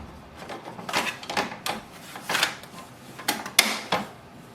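A series of plastic clicks and creaks as an ink cartridge is pushed and snaps into place inside an HP DeskJet 2900 printer, several short sharp snaps.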